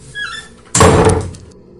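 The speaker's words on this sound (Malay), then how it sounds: "tiba-tiba dekat bilik sebelah bunyi macam orang tutup pintu" A door in the next room slams shut hard at night: one loud, heavy thunk that rings out briefly and then fades into quiet.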